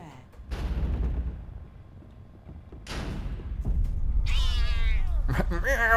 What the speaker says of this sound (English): Meow, fucking Crookshanks.